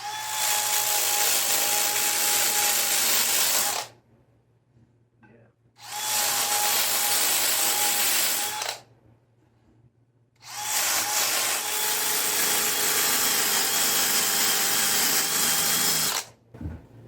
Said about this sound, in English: it's a little hard to control with the hand drill